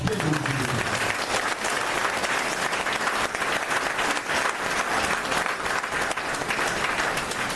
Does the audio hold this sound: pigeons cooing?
no